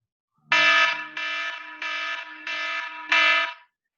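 An alarm clock beeps loudly in five sustained electronic bursts of about half a second each, evenly spaced, with no talking.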